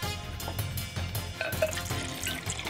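Water poured into a glass to serve as a drink in a household scene, a short splashy liquid trickle under music with a few clinks, close and moderately loud.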